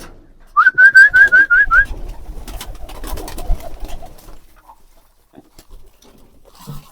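Pigeons kept in a house give a short run of quick whistled calls near the start, followed by soft rustling and shuffling, then quiet.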